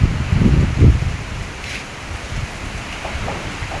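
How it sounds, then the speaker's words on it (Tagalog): Strong typhoon wind gusts through leaves in Bicol, a steady dense rushing roar with heavier surges early on, close and loud with no voices. "Malakas talaga ang hangin guys."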